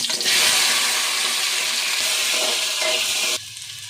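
Okra frying in oil for a kara kulambu produces a loud, rushing sizzle that holds steady, then abruptly drops to a quieter hiss near the end, heard close with no voices.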